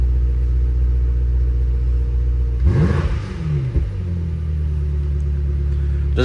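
Porsche 718 at a car auction, engine idling with a low steady rumble, then a sharp rev that rises and falls around the middle before settling back to a deep idle, close and loud.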